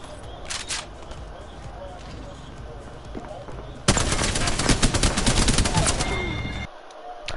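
Gunfire bursts in a video game: light scattered shots early on, then a loud rapid automatic volley of tightly packed cracks for about three seconds before it cuts off, with a voice talking briefly at the start.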